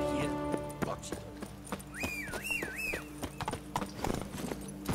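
Horse hooves clip-clop at a brisk, even pace in The Witcher 3, with a whistled tune rising and falling over the steps and a rider's brief vocal sounds.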